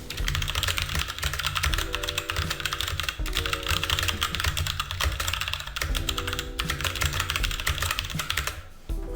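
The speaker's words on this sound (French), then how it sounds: "c'est bien évidemment le bruit des interrupteurs" Rapid, continuous clacking of a Roccat Suora mechanical keyboard's switches, close up and steady, with keystrokes tumbling over one another and a faint tonal hum underneath.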